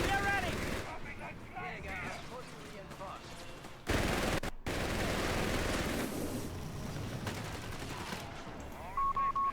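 MG42 machine gun fire in a real-time strategy battle, bursts of rattling gunfire mixed with explosions and dense combat noise, loud and continuous with short breaks.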